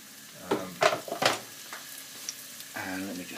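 Onions and celery hitting a hot pot for hotpot, giving a few sharp sizzling bursts and stirring scrapes, then a steadier frying hiss, close and fairly loud with no talk.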